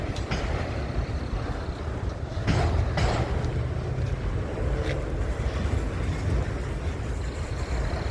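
A train rumbles along the railroad tracks at Wartrace, Tennessee, a steady loud low roar that swells midway and holds throughout, with no talk over it.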